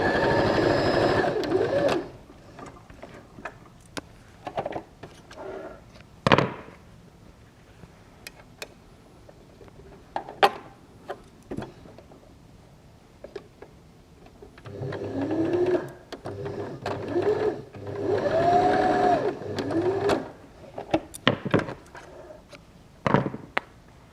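A sewing machine runs a 2mm straight stitch through fabric for a doll's tunic, with short bursts of whirring at first, then longer steady runs later, interspersed with clicks and quiet gaps.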